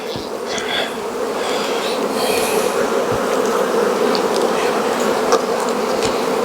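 Dense, steady buzz of honey bees swarming around an open beehive during a strong fall nectar flow, a continuous close drone with individual bees passing near now and then.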